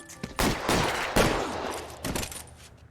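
Gunfire in the L.A. Noire video game, several loud close shots and short bursts in quick succession with echoing decay, no talking.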